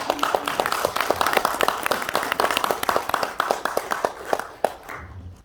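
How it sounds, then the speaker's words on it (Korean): Audience applause welcoming a speaker to a lecture, a burst of individual hand claps in an uneven, scattered rhythm, fairly close, that thins out and stops near the end. "우리 원영진 도요님을 박수로 모시겠습니다."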